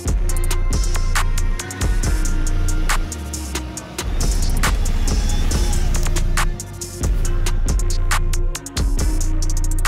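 A Hyundai Santa Fe pulls away and drives, its engine and road noise forming a loud, steady low rumble punctuated by sharp clicks and knocks from the cabin or gravel, with brief dips in level.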